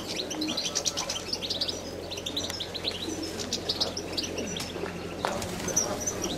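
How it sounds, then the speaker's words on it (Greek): Pigeons coo softly amid a busy outdoor bird chorus, with scattered chirps and tweets and a brief flutter of wings, steady and moderately distant. "Ανοίξαν τα περιστέρια."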